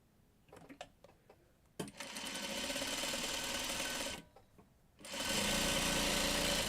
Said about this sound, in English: We'll sew another 4-patch.